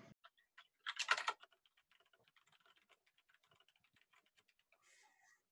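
Rapid keystrokes on a computer keyboard patter in a quiet room, a dense cluster of clacks up front followed by lighter, evenly spaced taps.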